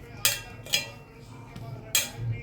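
Spoon scraping and clinking in a bowl while mixing raw grated carrot salad topped with a tempering of mustard seeds, chilli and asafoetida, four quick metallic strokes spaced unevenly, fairly close and quiet.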